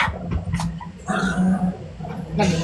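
A dog growls and barks in short bursts, fairly close, with brief shouting around it.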